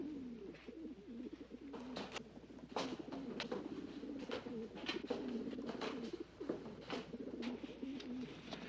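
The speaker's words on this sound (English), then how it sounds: "It's those pigeons." Pigeons cooing in a steady run of soft, rolling low calls, near and continuous, with scattered sharper clicks and flutters over the top.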